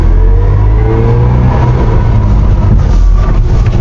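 A 1973 Subaru 360 truck's small engine runs under steady load with loud, continuous droning and rumble throughout, recorded from inside the cab while driving, with no talking.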